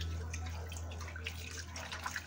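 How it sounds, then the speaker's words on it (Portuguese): Rinse water poured out of a bowl into a kitchen sink after washing tilapia fish, a steady close splashing flow over a low continuous hum. "Vou jogar essa água fora."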